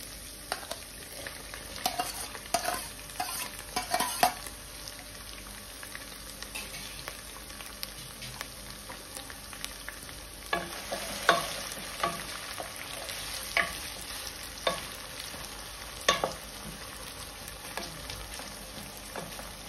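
Continuous sizzling of vegetables with sliced onion stir-frying in a pan for chicken Schezwan rice, with scattered crackles and the occasional scrape of stirring, steady and close.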